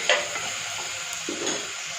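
Radish sautéing in a pan gives a soft, steady sizzle, with a light scrape or two of a stirring spoon against the pan, close and fairly quiet.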